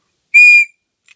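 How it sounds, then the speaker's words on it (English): SOG Signal Fire all-weather pealess whistle blown once, a single loud, shrill blast lasting about a third of a second, close and alone, followed by a tiny faint chirp. "this is actually a all-weather whistle"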